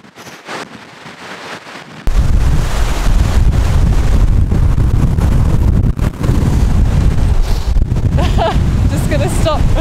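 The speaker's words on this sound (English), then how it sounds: "This has been so windy." Strong wind roars and buffets the microphone on a large suspension bridge near Aoraki/Mount Cook, a loud, continuous rush after a brief quieter start, with gusty low rumbling throughout.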